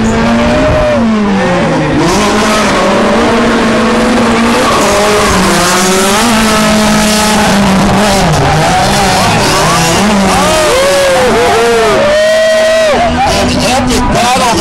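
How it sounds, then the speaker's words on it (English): Cars tandem drifting side by side at a Warfest drift competition top-eight battle: engines scream and rev up and down continuously while tires squeal and skid, with faint crowd babble underneath throughout. "That's tandem drift."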